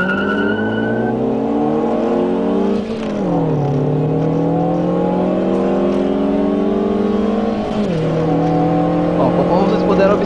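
A 2.0 turbo Opel Astra in the Live for Speed racing sim accelerates from standstill to 100 km/h, its engine rising in pitch through the gears with two shift dips and a steady loud drone.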